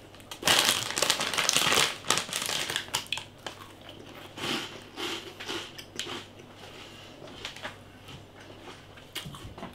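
Someone bites into and crunches Cheetos Footballs cheese flavour snacks up close, with loud crisp crackles early that thin into sparser chewing crunches.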